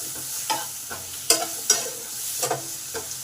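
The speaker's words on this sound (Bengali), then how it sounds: "আলুগুলোকে নুন হলুদে ভালো করে মাখিয়ে 5 মিনিট ভেজে নেব।" Potato pieces coated in salt and turmeric frying in a pan, with a soft sizzle beneath a few sharp clinks and scrapes of a spatula stirring them.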